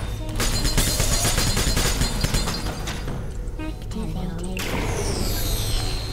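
Turrets shooting at players in Portal 2, rapid sustained gunfire bursts that fill the clip, loud and close, with a brief lull before the firing resumes.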